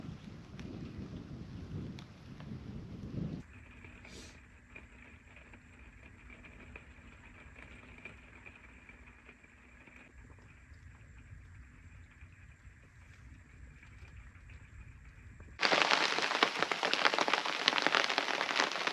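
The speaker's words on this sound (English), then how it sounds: "And of course it's raining." Rain falls steadily outside during a home foundation damp-proofing job, a broad hiss running through the whole stretch with no voices, turning noticeably louder and denser near the end.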